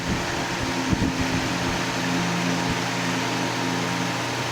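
A 1919 General Electric AOU oscillating fan runs steadily, its motor giving a low tonal hum beneath a broad, even rush of airflow, close and continuous with a few faint knocks early on.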